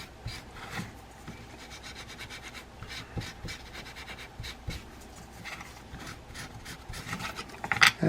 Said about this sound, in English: First thing I'm going to do is wipe this down clean.